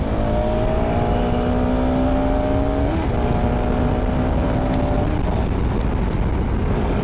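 Group of motorcycles including a TVS Apache RTR 160 and a Pulsar RS 200 revving and accelerating together, a loud steady engine drone with rising pitch that dips around three and five seconds and then climbs again, with no talk.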